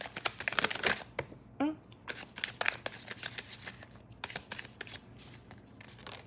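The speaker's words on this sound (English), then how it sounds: "Let me just get one shuffle." Tarot cards are riffled and shuffled in quick bursts of crisp flapping, with short pauses between sets, recorded close by at low volume.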